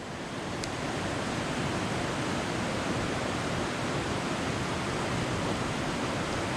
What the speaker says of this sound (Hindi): ये नदी है दूधी नदी।